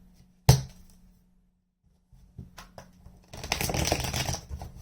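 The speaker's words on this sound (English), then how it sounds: "One more shuffle." A deck of tarot cards is shuffled by hand. One sharp snap is followed by a pause, then a few soft taps and a longer riffling burst, all close and fairly quiet.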